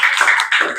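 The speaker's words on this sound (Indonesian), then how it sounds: "Beri tepuk tangan." A classroom group breaks into applause, a brief burst of dense, steady hand clapping that dips for a moment midway and then picks up again.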